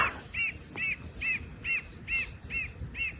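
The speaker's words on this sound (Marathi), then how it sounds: "कुठला तरी पक्षी ओरडतोय त्या साईडला" At a night campsite, a bird calls repeatedly in a steady rhythm, about eight short bright chirps spaced evenly, set against a constant high-pitched insect drone.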